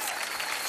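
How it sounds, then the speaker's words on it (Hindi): A studio audience at a comedy show bursts into dense, enthusiastic applause, a brief wash of many hands clapping together. "जोरदार तालियां रानी जी के लिए"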